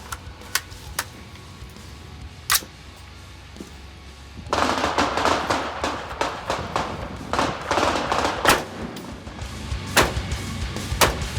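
Sharp AR rifle gunshots at an outdoor range while sighting in, several cracks spread across the span, with louder, denser reports after a few seconds over a continuous background rumble.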